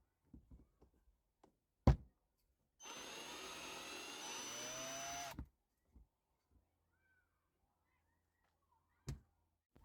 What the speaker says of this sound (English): we'll flip it into reverse and take it out again.